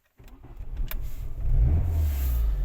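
A 1996 Volkswagen Golf 3 engine starts: a short crank catches into a low idle that swells and settles into a steady, close rumble.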